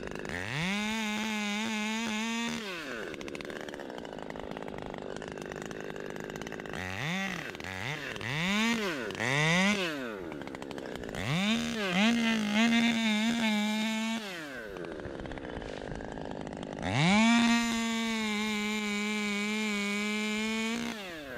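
A Red Beard chainsaw engine roars and revs repeatedly, pitch climbing and dropping as it bites through wood, loud and close for the whole stretch.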